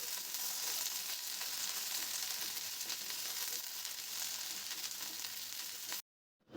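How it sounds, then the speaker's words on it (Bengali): Potato, eggplant and pointed gourd fry in oil with a loud, steady sizzle that crackles on without a break, then cuts off abruptly near the end. "এবার আমি কেটে রাখা আলু, বেগুন, পটলগুলো দিয়ে দেব। একটু তেলের সাথে 1 মিনিটের মতন ভেজে নেব।"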